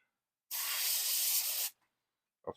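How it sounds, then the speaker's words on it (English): A spray can lets out a single steady hiss lasting just over a second, close and loud, then cuts off to silence with a faint click near the end. "I'll spray everything again."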